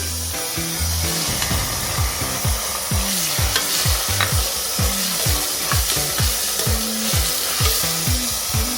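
Beans and mixed vegetables fry with ginger paste in a pan, making a loud, steady sizzle, and a spoon scrapes the pan again and again in an even stirring rhythm.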